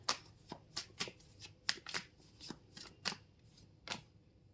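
Tarot cards are shuffled by hand in a quick, uneven series of soft riffling flicks and taps, close up and quiet, with no talking.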